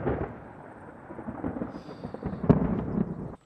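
Thunder from lightning strikes during a storm rumbles low and loud, a rolling heavy boom that builds with a sharp crack near the end before cutting off, with no speech.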